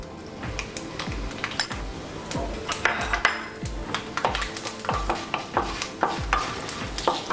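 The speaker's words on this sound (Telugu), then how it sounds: "ఇప్పుడు మనం ఎండుమిరపకాయలు, కరివేపాకు వేసేసుకుందాం." Dried red chillies and curry leaves dropped into a hot pan with turmeric, with a steady sizzle under repeated metallic scrapes and taps of a spoon stirring against the pan, close-up and continuous.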